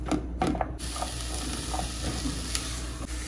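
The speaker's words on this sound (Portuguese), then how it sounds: "E vou ligar aqui para começar a fritar a salsicha." Sausage frying in a thread of olive oil in a pan, a quiet steady sizzle with a few sharp spatula taps and scrapes early on.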